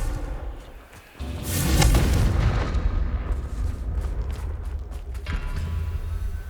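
A Confringo blasting curse goes off in Hogwarts Legacy, a booming in-game explosion that swells into a long, rumbling roar and then settles into a steady blast-heavy din, loud and close.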